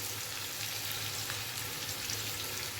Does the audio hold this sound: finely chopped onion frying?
yes